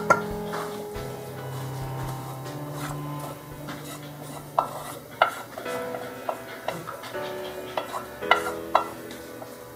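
Chopped onion stirred into an oil-filled frying pan gives a steady sizzle, with repeated scraping clicks from the spatula against the pan.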